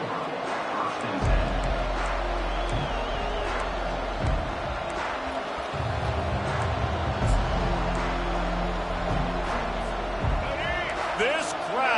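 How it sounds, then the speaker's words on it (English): Stadium crowd noise from a Bama vs South Carolina game in College Football 25, a loud, sustained roar with swells of cheering under steady play-by-play commentary. "This crowd, full throat, spreading the eardrums and letting them know it's going to be a long day"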